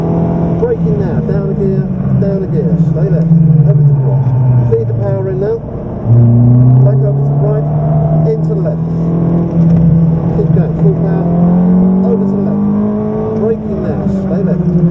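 A Ferrari F430 engine revs and accelerates loudly on the Silverstone circuit, its pitch climbing and dropping through gear changes as a driver talks over it.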